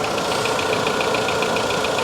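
A tiny car engine idles at an auction-yard walk-around, a steady, fairly loud hum with a fast, regular ticking pulse running through it and no talking.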